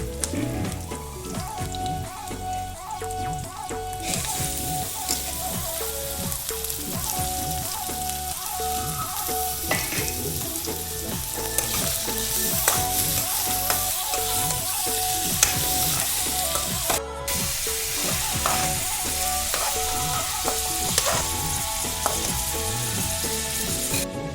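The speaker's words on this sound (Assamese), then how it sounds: "মাংসটো অলপ ফ্ৰাই হৈ লওক।" Pork sizzling in a pan with onions already browned, a continuous crackling fry with scraping stir sounds and occasional sharp clinks, loud and steady with no talking.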